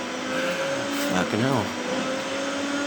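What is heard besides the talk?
car engine while racing in GTA Online, a video game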